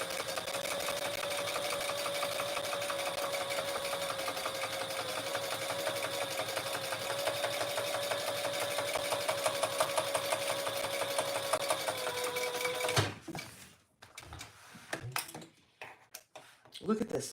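A sewing machine top stitches across the bottom of a fabric bag in one long, steady, close hum that runs for about thirteen seconds, then stops abruptly and gives way to a few scattered handling clicks and knocks.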